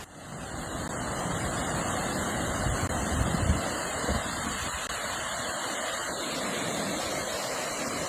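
A small waterfall near Thunder Bay, Ontario, sends out a steady broadband rush of falling water that holds constant throughout.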